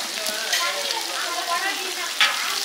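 Green chillies hit hot oil in a village-style mutton curry pan, giving a steady close sizzle and crackle with a brief sharper spit near the end, no voices.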